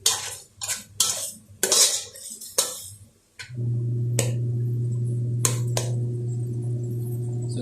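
Chicken gizzards cooking in tomato juice in a pan, stirred with sharp metallic clinks and scrapes of a utensil against the pan, followed by a steady low bubbling hum with occasional taps.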